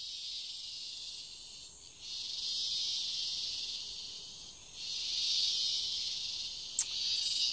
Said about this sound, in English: There's dueling crickets on two sides of this path.